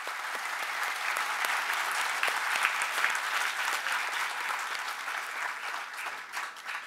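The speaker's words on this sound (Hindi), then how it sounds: "एक बार जोरदार तालियों की गड़गड़ाहट।" Loud, sustained applause from a large audience at the Ved Awards ceremony in India, continuous dense clapping filling the room with no talk over it.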